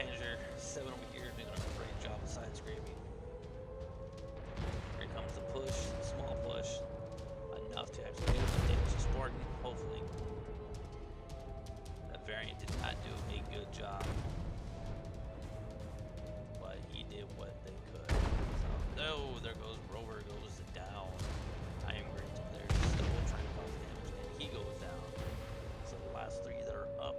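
Tank cannons fire in a World of Tanks battle involving heavy tanks like the T7 Heavy, Panzer 7 and Type 5, with several deep booming shots spaced apart under continuous commentary and engine drone.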